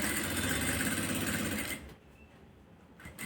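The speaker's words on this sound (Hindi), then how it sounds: "यहाँ पर देखिए गले के साथ साथ में सिलाई लगानी है" A sewing machine runs steadily while stitching along the neckline of a coat collar, a loud continuous mechanical whir that stops abruptly partway through, leaving near silence with a faint restart at the end.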